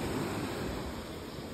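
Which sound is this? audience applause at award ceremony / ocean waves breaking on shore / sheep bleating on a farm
ocean waves breaking on shore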